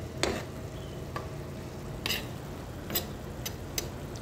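An egg cooks in a pan with a low, steady sizzle, broken by a few sharp ticks and scrapes spaced a second or so apart.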